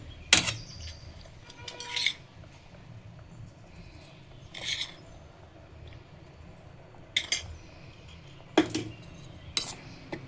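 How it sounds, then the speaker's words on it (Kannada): Spoon clanks against a pan as chilli powder, turmeric and salt are mixed into a cooking tomato purée for chutney, with scattered metallic scrapes and taps over quiet background. "ನೀಟಾಗಿ ಮಿಕ್ಸ್ ಮಾಡ್ಕೊಳ್ಳೋಣ"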